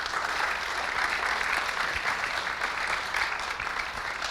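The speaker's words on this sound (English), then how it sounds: "Huge round of applause." Audience applause after an educational talk on dengue fever and other tropical diseases in Thailand, a steady, dense wash of many hands clapping throughout with no speech over it.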